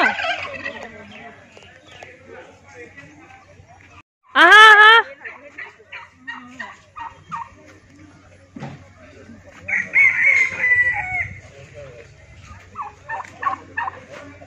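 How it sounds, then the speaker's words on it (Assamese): A large turkey gobbles loudly once in a short, rattling burst close by, amid scattered fowl clucks and a person talking. "বৰ মাতে এইটোৱে টাৰ্কি"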